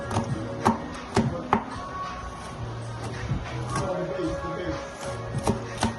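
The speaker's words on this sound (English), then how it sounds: "You cut up the peppers." Green and red sweet peppers and onions chopped with a knife on a board, a close, steady run of sharp chops in uneven bursts.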